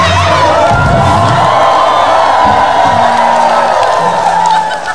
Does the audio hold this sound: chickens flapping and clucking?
no